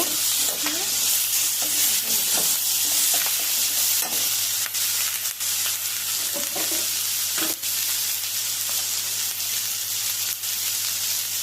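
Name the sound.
onion, chilli and vegetables frying and stirred for puti fish curry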